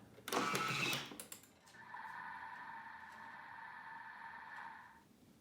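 A Thermomix turns fresh yeast for a brioche dough at speed 1 and 37 degrees, a soft steady hum that starts after a brief clatter and runs evenly, fairly quiet, with no talking over it.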